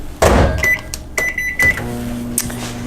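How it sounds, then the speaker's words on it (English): A microwave oven in a home kitchen heating a chicken and veggie casserole: door clunks and button beeps, then a steady low hum begins. "I'm gonna put it back in the microwave for a couple minutes."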